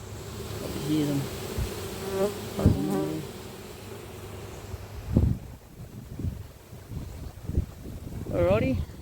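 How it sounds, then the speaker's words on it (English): Honey bees buzzing inside a hive during an autumn inspection, a steady close insect hum with intermittent louder buzzes, under a voice talking at times. "Calm the bees down that are inside up top."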